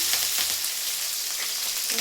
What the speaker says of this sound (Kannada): ಸೊಪ್ಪು ಒಗ್ಗರಣೆ ಮಾಡೋಣ ಸ್ವಲ್ಪ ಬೆಳ್ಳುಳ್ಳಿ ಹಾಕ್ತೀನಿ